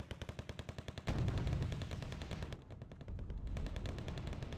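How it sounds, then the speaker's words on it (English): In the video game Wargame Red Dragon, rapid rhythmic gunfire pops in a steady series, then heavy mortar and gunfire blasts merge into a dense, continuous battle roar. "Mortars firing on road."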